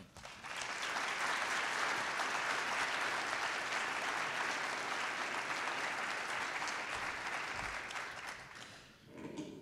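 Audience applause at a Baylor University honors week keynote address, a dense steady wash of clapping that rises quickly, holds for about eight seconds, then fades as it thins out.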